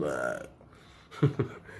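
A voice imitates a burp, giving two short, throaty belch-like bursts close by after a moment of talk.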